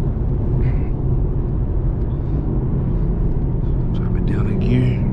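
Infiniti Q50 Red Sport engine running in sport mode during a drive, a steady low rumble that holds throughout with a slight rise near the end, heard from inside the cabin.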